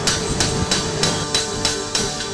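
Hammer forging the steel brim of a German burgeonet helmet, struck in a steady run of about seven ringing metallic blows, close and loud.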